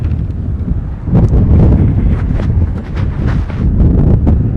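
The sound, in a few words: wind blowing into microphone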